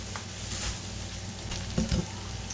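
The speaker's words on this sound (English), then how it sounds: "We're just going to start letting them sweat on down." Sliced peppers sizzling and sweating in a frying pan, a soft, steady frying crackle heard close up, with a brief clatter near the end.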